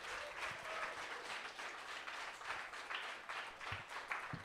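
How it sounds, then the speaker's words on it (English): Sustained audience applause at a poetry slam, a steady wash of many hands clapping in a hall, fairly even in loudness with a few brief louder claps near the end. "let's applaud all of our poets in our first 2-minute round"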